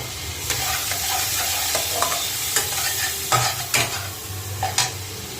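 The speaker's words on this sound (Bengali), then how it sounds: "ভালো করে কষিয়ে নেব। এখন আমি সোয়া সসটা দিয়ে দিচ্ছি।" Maggi noodle ingredients stir-fry with soy sauce in a hot pan, a loud continuous sizzle broken by repeated scraping and clattering strokes of the spatula against the metal.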